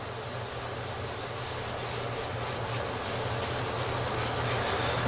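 A hand rubs leather dye over a plain alder guitar body in a tobacco burst finish, making a continuous close, dense scrubbing and rubbing sound with a low hum beneath and no talking.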